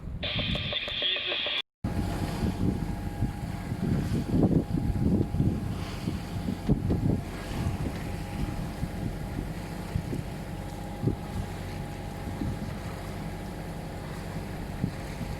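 A sailboat's motor drones low and steady close by off Fréjus, mixed with wind buffeting the microphone and water noise, after a brief high whine at the start.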